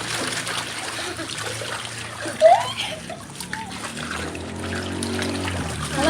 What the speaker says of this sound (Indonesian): Ryan lagi main air nih